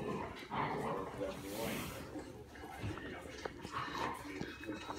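A pet dog whimpers and yips for a sock, with soft, whiny cries mixed in close under a person's ongoing talk.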